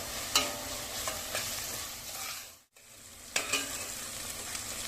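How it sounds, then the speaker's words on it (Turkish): Onions cooking gently in a pan, a steady broadband sizzle with scraping stir strokes near the start and end, close and moderately loud, with a brief dropout in the middle; no talking. "Soğanları çok fazla pişirmeye gerek yok. Hafif kalacak şekilde pişiriyoruz"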